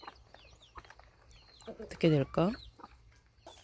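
A mother hen gives two loud, close clucking calls in the middle, amid softer bird chirps and a brief spoken question.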